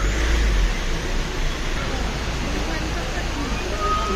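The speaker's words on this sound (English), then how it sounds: "চলে এসেছি Banjhakri Waterfalls," Banjhakri Waterfalls in Sikkim pour with a steady, dense roar of falling water that stays loud and unbroken from start to end, with no voices heard.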